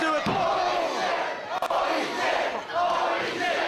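A wrestling crowd roars after a fisherman buster at an Irish Whip Wrestling show, a loud, sustained wall of cheering and shouting with a brief dip in the middle before it swells again.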